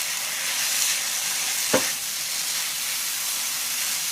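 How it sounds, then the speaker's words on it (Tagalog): Two cups of cooked rice fry with oyster sauce in a pan, giving a steady close sizzle and hiss throughout, with a single brief scrape of stirring midway. "Bale, 2 tasang kanin ang isasangag ko."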